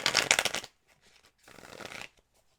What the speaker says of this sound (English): I'm going to shuffle this one more time